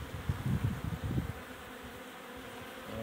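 Honeybees at an opened hive during spring work before the acacia bloom, a dense steady hum with a few louder buzzing passes close by early on, then a softer even drone.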